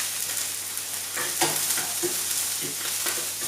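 Onions cooking in an oiled pan with no added fat, for a low-fat vegetable burger, give a steady, soft sizzle throughout, with a few light scrapes and clinks of stirring on top.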